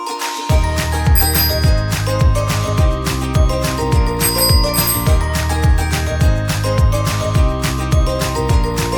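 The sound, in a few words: bicycle bell ringing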